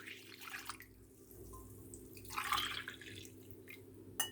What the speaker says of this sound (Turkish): Hemen üzerine şöyle iki su bardağı ılık sütümü ilave ediyorum.